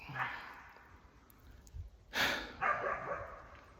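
Dogs during a pig hunt in open country give off snorting, huffing and panting bursts at moderate distance, with one sharp louder burst midway over steady outdoor background noise.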